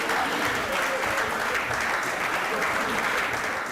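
A large studio audience at the TV courtroom show Aap Ki Adalat claps in a dense, continuous roar of applause that holds steady from start to finish.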